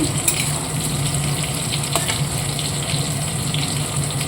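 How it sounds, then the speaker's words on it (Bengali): Prawns fry in a pan over lowered gas, giving a steady, loud sizzle with crackling pops and a watery bubbling undertone, continuous with no talking. "এদিকে চিংড়ি মাছগুলো দিয়ে দিয়েছি।"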